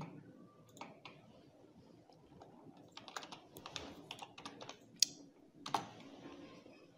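Quick bursts of keystrokes on a computer keyboard as a file name is typed, the clicks uneven and fairly close, with a couple of sharper taps standing out against faint background.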